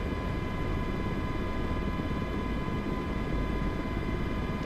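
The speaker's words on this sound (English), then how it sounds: "The Miltech MH60 has really set a new standard for MSFS helicopters." Miltech MH60 helicopter in Microsoft Flight Simulator, a steady, loud, close rotor and turbine drone that holds unbroken throughout with a constant whining hum over a dense low rumble.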